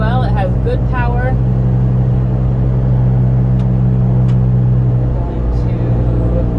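A 2005 VW Jetta TDI drives steadily with a loud, continuous low engine drone and road rumble throughout, while faint higher squeaks and a voice-like warble drift in near the start.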